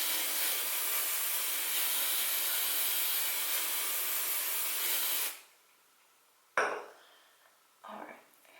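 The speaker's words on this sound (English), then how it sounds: "We're gonna spray." A long, steady hiss of spraying for about five seconds, then quiet broken by two short, sharp bursts of spray.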